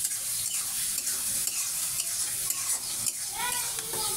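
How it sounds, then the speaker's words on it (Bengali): Potato and eggplant pieces are stirred in a hot frying pan, a constant loud sizzle with repeated scraping strokes of the spatula, close up and without talk. "ঢাকনাটা তুলে নিচ্ছি, আমি আবার ভালো করে নেড়ে ছেড়ে নেব।"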